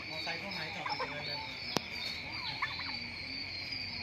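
A turkey gobbles in short bursts from a tree roost over steady background bird noise and a high hum, with a sharp click partway through.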